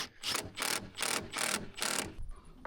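Ratchet tightening bolts on the rear bumper of a Tesla Model Y Juniper: five rapid bursts of clicking, close and fairly loud, each about a third of a second long with short pauses between, ending in a brief softer tail.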